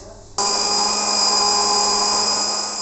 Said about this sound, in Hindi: फिर इसे हम कर लेंगे ग्राइंड